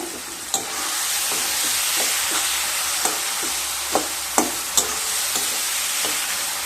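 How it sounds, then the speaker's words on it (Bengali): Pumpkin greens with shrimp being stirred in a pan, a continuous soft sizzle broken by several sharp scraping clacks of the spoon against the pan at uneven intervals. "এবার খুব ভালোভাবে মিশিয়ে নেব। মিশিয়ে নিয়ে খুব ভালোভাবে জলটাকে শুকিয়ে নিতে হবে।"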